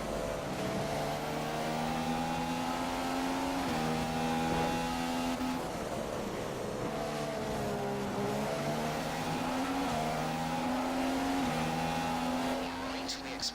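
McLaren Honda Formula One engine in the F1 2015 racing game on Xbox One, at the Australian circuit: a loud, continuous high-revving whine whose pitch climbs and drops repeatedly through gear changes, with a brief rougher patch midway.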